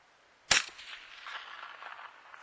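A single sharp .22 LR rifle shot fired at a 30-30 target 347 metres away cracks out loudly, followed by a faint lingering echo and outdoor ambience with no talking.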